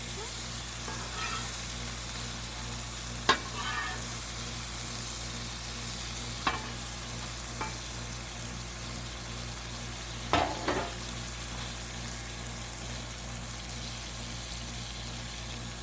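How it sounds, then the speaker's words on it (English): Shrimp cooking on a flat griddle, with a quiet continuous sizzle and a few scattered clicks and spatula taps over a long stretch, no talking. "I think the shrimp's probably close to done."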